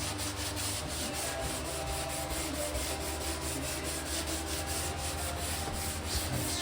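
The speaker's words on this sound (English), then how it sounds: "Just kind of scrub all that down, get a little more of it loose." Brush scrubbing chemical stripper and mineral spirits off a hardwood floor, a steady rhythmic rasping rub, close and continuous with no voices.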